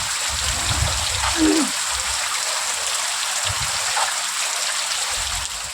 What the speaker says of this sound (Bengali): বৃষ্টি পড়ছে এখনও কিন্তু একটু কমেছে